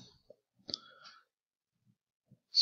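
A computer mouse clicks a couple of times in a quiet room. The clicks are brief and sharp, with a soft one early and a crisper one at the end.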